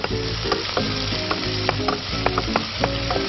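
Garlic and chopped onion fry in olive oil in a pan for a risotto, with a continuous close sizzle broken by scraping stirs and utensil clinks against the pan.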